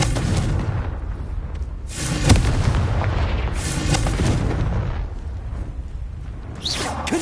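Repeated Confringo blasting-spell explosions in the Hogwarts Legacy video game, loud booming bursts with whooshing tails landing over a constant rumbling game backdrop.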